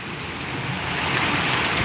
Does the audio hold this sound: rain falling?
yes